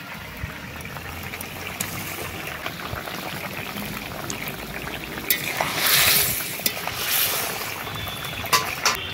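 Radish simmering in a pan with ginger and cumin paste added, giving a steady close sizzle with soft stirring scrapes and a louder frying burst midway, no voices.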